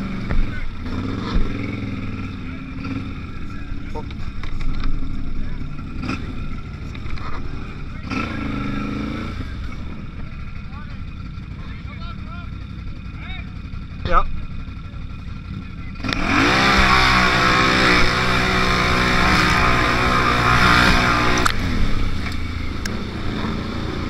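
Vehicles racing in a mud drag race, engines droning and revving at varying pitch, then a loud sustained roar as one launches and pulls hard; voices talk in the background earlier.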